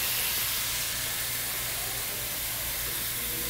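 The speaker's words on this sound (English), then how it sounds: "I'm gonna deglaze with a little tomato product." A hot, spiced pan deglazed with a tomato product gives off a loud, continuous steamy hiss and sizzle that holds steady throughout, close up and with no talking.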